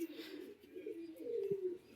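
A pigeon at a loft in Gangnapur, West Bengal, gives a soft, low continuous coo, faint and fairly close, in a quiet setting.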